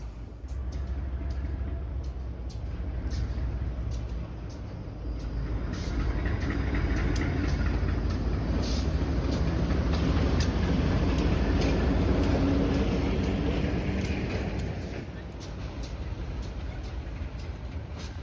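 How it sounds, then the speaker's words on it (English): Fore River Railroad locomotive FR-102 shoving its train onto a branch line switch toward a shipyard, a heavy low diesel rumble with clanking and squealing rail noise, steady and moderately close. "FR-102 will shove their train up onto the branch line switch, where they will then proceed east towards the shipyard"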